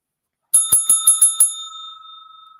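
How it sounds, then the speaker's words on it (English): A bright metal bell rings six quick strikes in a row, then its tone lingers and slowly decays; close, clear and alone. "The bell, loving it."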